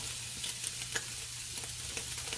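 Steady sizzling and frying of egg fried rice in a pan as a little more oil goes in, with faint stirring clicks over a continuous broadband hiss, no voices.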